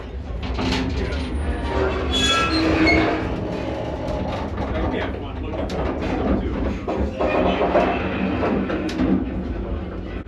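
Colebrookdale Railroad passenger train rolling along the rails in Pennsylvania, a steady rumble and clatter heard from inside a car, with faint people talking in the background throughout.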